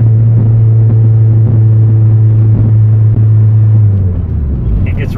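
Low, steady exhaust drone from a turbocharged Honda Civic with a D16 engine and no muffler, a loud booming hum held at about 3,500 rpm that fades near the end, with faint knocking beneath it.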